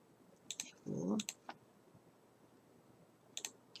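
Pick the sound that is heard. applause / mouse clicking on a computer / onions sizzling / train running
mouse clicking on a computer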